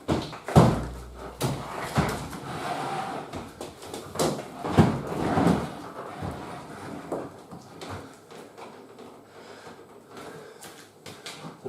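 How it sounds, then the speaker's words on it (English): Plastic detergent drawer of a Samsung Eco washing machine being pushed back into place, a few sharp knocks and sliding clunks early on, then quieter handling rustles. "And put the drawer in."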